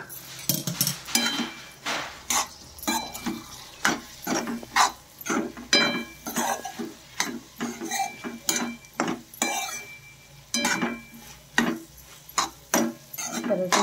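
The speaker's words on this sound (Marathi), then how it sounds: "5 मिनिटे झाले आता परत मिक्स करून घे" Guar bean and potato curry being stirred in a pan, with repeated scraping and clinking knocks of a spoon against the metal in an irregular rhythm, close and fairly loud.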